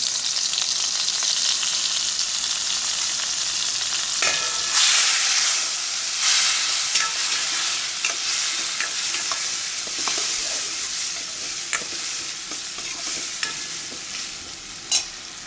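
Tomatoes and turmeric sizzling in a frying pan with asafoetida for sev tameta shaak: a loud, steady close sizzle and hiss, broken by occasional stirring clicks and scrapes, easing slightly toward the end.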